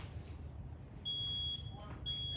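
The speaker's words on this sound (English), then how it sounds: "let's listen to the smoke alarm" A household smoke alarm being tested, giving two loud, piercing electronic beeps: one long tone of about half a second, then a short gap and a second tone, over a low background hum.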